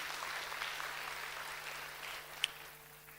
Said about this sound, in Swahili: Huyu tumpigie makofi mazuri.